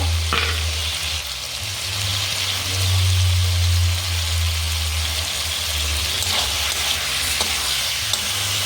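Boiled chicken meat for chicken bharta sizzling and frying in a pan while being stirred, a continuous loud crackle with occasional scraping strokes and a low hum beneath, no voices.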